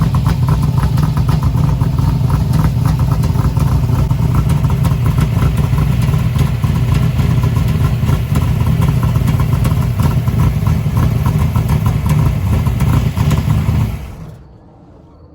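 A 1972 Chevy Nova engine idles loudly and steadily with a rough, raspy exhaust rumble from an exhaust leak, running continuously before cutting off abruptly near the end.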